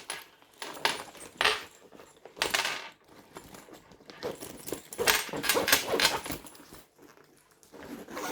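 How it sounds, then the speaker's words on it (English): Metal hardware on a sewn Wonder Bag jangles and clinks in repeated bursts as the bag is handled and shifted, loud and close with no talking. "Listen to all the hardware dangling."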